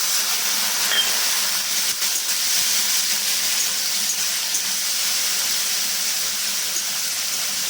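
Water poured into frying ginger, garlic, cumin and chilli spice paste for a potato, cauliflower and prawn curry, giving a steady, loud, hissing sizzle of steam that stays even throughout with no voices.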